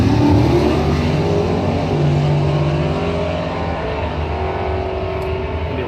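A Mopar 340 Dart drag car launches from the left lane at a bracket points race, a loud, close engine roar that climbs in pitch at the start and holds as a steady, rough blast to the end.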